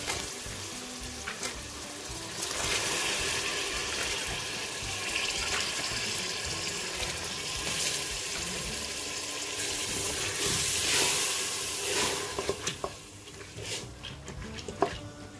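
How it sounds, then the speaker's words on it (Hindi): Three cups of water run and splash steadily into a pressure cooker pot with chana dal for several seconds, with kitchen clatter and a few sharp clinks toward the end. "पानी ऐड करें 3 कप पानी ऐड करके"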